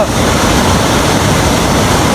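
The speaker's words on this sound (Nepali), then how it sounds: "त्यो आवाज पानी झरेको तल झरेको आवाज" Loud, steady rush of falling water close by, a dense continuous roar like a stream pouring down rocks.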